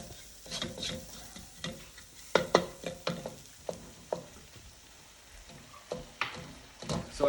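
Bison spaghetti paste cooking in a pan, a soft background sizzle broken by intermittent scraping and stirring clicks of a utensil against the pan, close and fairly quiet.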